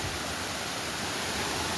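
Rainwater rushes down a flooded channel after nonstop rain during the Dashain season, a steady broadband roar of flowing water close by with no break.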